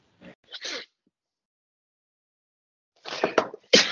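Sneezes during a French conversation roleplay: a soft breathy buildup and short burst, then after a quiet pause a stronger, sharper sneeze, close and fairly quiet.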